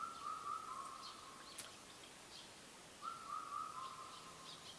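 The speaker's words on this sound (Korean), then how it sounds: "오늘도 새소리가 좋습니다." Faint birdsong over a steady outdoor hiss, with two drawn-out whistled calls separated by a short pause.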